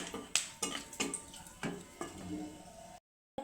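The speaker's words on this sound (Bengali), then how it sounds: "লবঙ্গ দারচিনি এলাচ এটাকে একটু ভালো করে একটু তেলে একটু নেড়ে নেব" Cloves, cinnamon and cardamom being stirred in oil in a pan, a run of regular metallic taps and scrapes, about eight evenly spaced strokes over a soft sizzle, ending in a brief silence.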